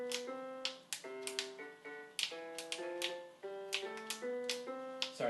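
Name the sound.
tapping sticky keys of G-Board 24 prototype keyboard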